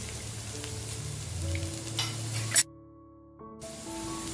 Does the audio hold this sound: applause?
no